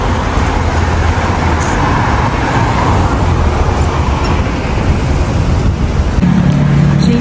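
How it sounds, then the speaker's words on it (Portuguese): Dense weekday car traffic rumbles steadily along a city street in Santiago, Chile, a continuous close wash of engine and tyre noise with no talking. "E dá-lhe trânsito em Santiago, hein, gente?"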